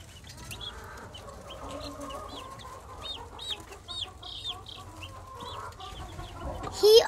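Meat chickens clucking on a farm on a mild spring day, a steady chorus of short repeated clucks and calls at close range, with a louder squawk near the end.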